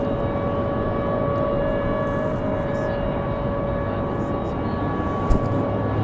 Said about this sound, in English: Next arrival, PSA Airlines from Washington, D.C. It's going to be the CRJ